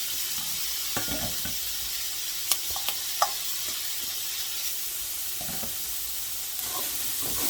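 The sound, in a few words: peppers and onions sautéing in a pan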